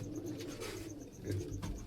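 Pigeons in a loft coo softly and repeatedly, low throaty calls over a faint steady background with a thin high tone.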